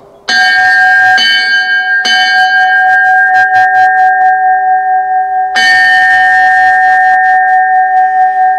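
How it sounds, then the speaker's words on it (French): A loud ship's bell, rung by rope, is struck several times, each clang ringing out with a long, sustained metallic tone that lingers between strikes. "Alors ça, c'est une cloche pour les bateaux."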